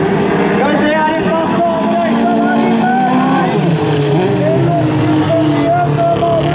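Bilcross race cars roar together at the start of a Norwegian autocross race in Sigdal, engines revving in loud overlapping harmonic whines that rise and shift, with an excited commentator talking over them throughout.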